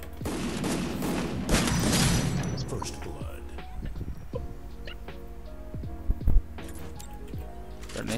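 Gunshots in the Free Fire video game, a dense burst of rapid fire early on followed by scattered single shots and impacts over background game sounds, with people talking at points.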